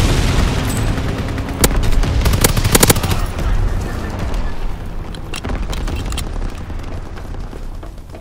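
Anti-aircraft fire at enemy planes in a WW2 video game: loud, continuous bursts of machine-gun rattle and heavy gunfire with booming blasts, densest early and then settling into steadier shooting.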